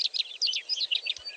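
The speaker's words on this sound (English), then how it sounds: "this is the melodious lark, a bird in display and one down on the ground" Melodious lark in display song, a rapid, continuous run of bright high chirps and trills with no pauses, close and clear above a quiet background.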